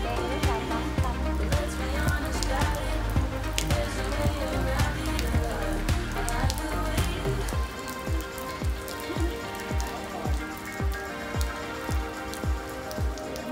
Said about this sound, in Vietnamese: tại vì trời ở ngoài đang mưa rất là to